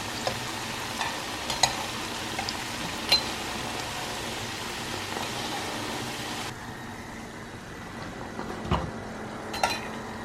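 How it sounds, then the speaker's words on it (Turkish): Pişi, an unleavened dough, frying in hot oil, giving a steady close sizzle with scattered crackles and pops, plus occasional light clinks of utensils and pans. "Şimdi onları hemen kızartayım."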